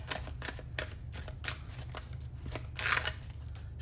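Tarot cards being shuffled by hand, giving repeated soft papery riffles and flicks in an uneven rhythm over a low steady hum, close by with no talking.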